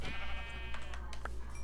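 A Minecraft sheep bleats briefly over a steady background hum, one short bleat near the end.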